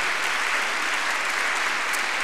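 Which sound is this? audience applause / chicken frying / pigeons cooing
audience applause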